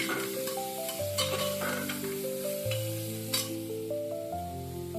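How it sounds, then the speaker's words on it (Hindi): Soybeans frying in spiced oil in a pan while being stirred, a steady close sizzle with scraping and stirring clatter throughout, alongside a low continuous background tone. "सोयाबीन को मैंने 1 मिनट तक अच्छे से भून लिया है।"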